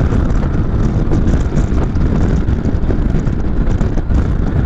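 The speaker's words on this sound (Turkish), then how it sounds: "Bu arada muazzam rüzgar var ya" Heavy wind buffets the microphone, producing a constant low rumbling roar with gusty fluctuations throughout.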